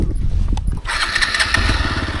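An off-road motorcycle engine revs close up in a brief, loud burst on a rough trail climb.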